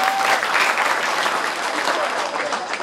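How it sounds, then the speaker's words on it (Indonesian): Applause from an audience of parents at a Father's Day school event, a steady dense clapping lasting throughout, fairly loud and close with a crowd feel. "Tepuk tangan buat ayah bunda semuanya"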